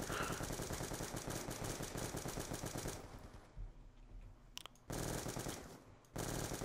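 Rapid automatic gunfire in Black Ops 2 Zombies, dense loud bursts of shots for about three seconds, then a quieter pause before another sustained burst and a brief final one; no speech.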